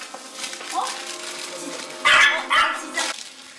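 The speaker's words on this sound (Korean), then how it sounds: "웬일인지 강아지들 반기는 소리만 들린다" At a pianist's home, house dogs give a few sharp welcoming barks and yips near the end, fairly close, after quieter rustling and faint whines, with someone speaking softly.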